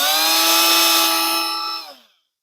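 A Milwaukee M12 Fuel cordless die grinder spins at high speed with a loud, steady, bright whine, then spools down and falls silent near the end.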